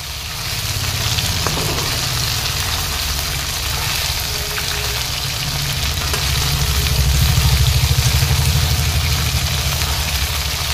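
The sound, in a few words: frying soybean chunks in oil in a wok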